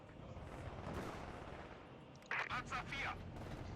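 Rattling bursts of gunfire from the World War II strategy game Company of Heroes 2 chatter in a short cluster near the end, following a stretch of dense battle noise under a voice talking.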